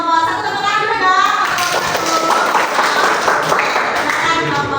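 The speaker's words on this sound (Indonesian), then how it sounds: "silakan untuk kelompok 1 tepuk tangan dulu dong" Students clap for a group presentation in a school classroom, a steady patter of applause lasting several seconds, with voices and chatter mixed in underneath.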